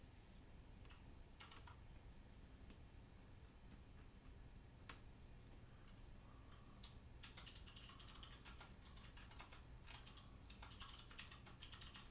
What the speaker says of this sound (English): Listen to that keyboard.